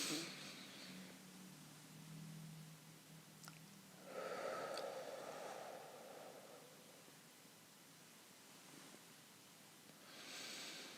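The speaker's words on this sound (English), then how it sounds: "Take 6 deep breaths, like literally breathe in as much as you can, exhale all the way" Slow, deep breathing: a long airy inhale followed by a full, drawn-out exhale, soft and close with broadband hiss, repeated in a calm rhythm and no talking.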